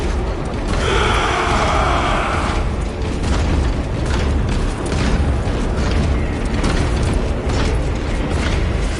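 Weapons fire and explosions rumble through a Warhammer 40k battle, a dense, continuous wall of booms, mechanical clatter and crackling blasts with no clear pauses, loud and close throughout.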